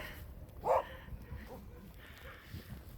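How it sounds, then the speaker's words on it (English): An angry dog barks once, a short, fairly distant bark outdoors in an isolated wilderness village far from Petrozavodsk, Russia, with quiet ambient noise around it. "Angry dog."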